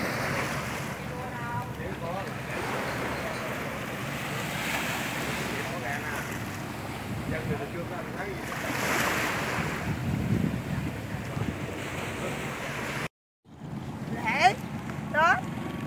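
Sea waves surge and break continuously at Hồ Bể beach in Sóc Trăng, a black-sand shore, during the windy season, with strong wind buffeting the microphone and voices faintly audible beneath the surf.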